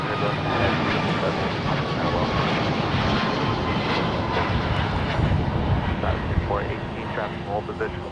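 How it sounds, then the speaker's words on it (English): An American Airlines Boeing 777-200 heavy jet lines up on the runway, its engines a loud, steady rumbling roar with a faint whine on top, heard close and continuous. "American 9715 Heavy is lining up right now, headed to Boston."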